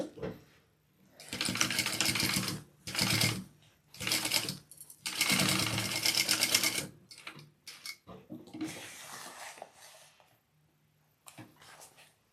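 A sewing machine bastes together fabric pieces for a crossbody bag, stitching in several close, rapid bursts of mechanical whirring separated by short pauses.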